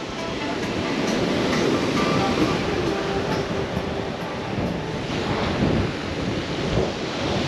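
A steady, loud roar of wind blows continuously along the seafront promenade at Lazarevskoye, mixed with the wash of surf and faint voices underneath.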